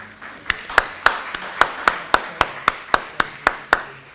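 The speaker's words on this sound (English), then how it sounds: "So let's have a round of applause for our panelists" Applause for the panelists at a plenary session of an international conference on regenerative ecosystems, heard as sparse, evenly spaced hand claps roughly every quarter second, fairly close and crisp, with no voices over them.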